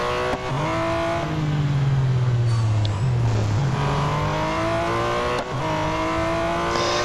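A Porsche race car in Real Racing 3 accelerates hard, its engine note climbing through several rising sweeps with brief dips at gear changes, loud and close throughout.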